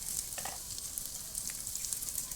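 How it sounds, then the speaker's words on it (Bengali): Prawns, onion, garlic and green chili fry in a pan with a steady, soft sizzle and crackle, fairly quiet and continuous, with no talking. "আমার চিংড়ি মাছ, পেঁয়াজ, রসুন আর কাঁচা ঝালটা ভালো করে ভাজা ভাজা হয়ে গেছে"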